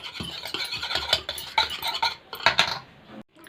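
Ingredients being stirred in a bowl with a spoon for spicy crispy chicken batter, giving repeated clinks and scraping strokes against the bowl. The strokes are close and fairly loud, and nobody talks.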